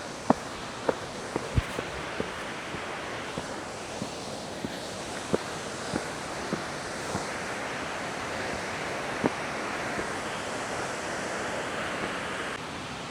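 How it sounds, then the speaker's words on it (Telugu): Rushing waterfall on the Ladies Bath Falls trek at Mount Hotham, Australia: a steady, broad roar of falling water fills the whole stretch, with occasional close footstep crunches and light wind. "వాటర్ ఫాల్ కనిపిస్తుంది, చూద్దాం."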